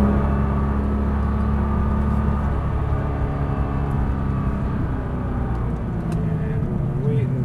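Nissan GTR pulling hard out of a turn on the Las Vegas racetrack, a steady loud engine drone and road rumble from inside the car that carries on without a break.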